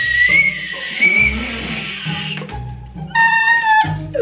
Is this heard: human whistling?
yes